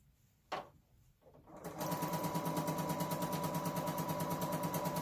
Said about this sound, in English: Now we're going to sew those together.